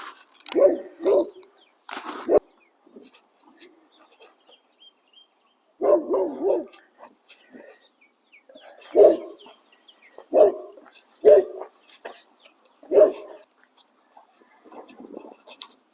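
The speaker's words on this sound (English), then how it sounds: "And there's my lovely neighbor's dog." A neighbor's dog barks in a backyard garden, heard at a moderate distance in scattered single and doubled barks spread over quiet gaps, with faint birdsong now and then.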